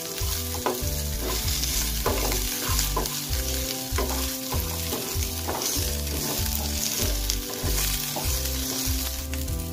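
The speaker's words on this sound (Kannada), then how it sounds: "ಇವಾಗ ಇದಕ್ಕೆ ತಗೊಂಡಿರುವಂತ ಜಿಂಜರ್ ಗಾರ್ಲಿಕ್ ಹಾಕೋಣ ಇದೆಲ್ಲಾನು ಒಂದು ಸ್ವಲ್ಪ ಹೊತ್ತು ಚೆನ್ನಾಗಿ ಫ್ರೈ ಆಗುತ್ತೆ" Ginger and garlic fry for a Mangalore-style mutton curry, giving a steady, loud sizzle broken by a regular rhythm of spatula scrapes and knocks against the pan, close up and with no talking.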